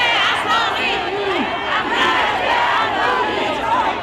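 A large demonstration crowd in Tehran shouting slogans together in unison, loud and close, with rhythmic chanted phrases rising and falling over a constant roar of many voices.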